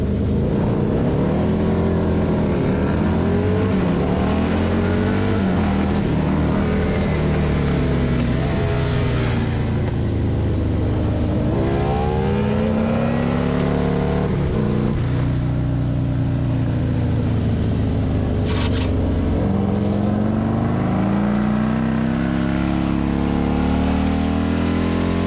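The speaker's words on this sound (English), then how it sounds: "The ATU race is a combined class running with the Unlimited Super bikes, which are very fast motorcycles." Unlimited superbike and bagger racing motorcycles at Gingerman Raceway in South Haven, Michigan: a loud, continuous engine roar with rising and falling revs as bikes accelerate and shift, steady and close throughout.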